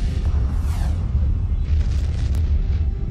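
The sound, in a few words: gamma ray burst explosion sound effect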